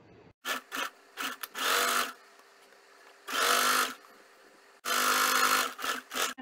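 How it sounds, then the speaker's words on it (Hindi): A home sewing machine stitching a men's kurta pocket runs in short bursts of varying length, with a few quick stitches and then two longer steady whirring runs separated by quiet pauses, close up. "अब इसकी सिलाई करेंगे।"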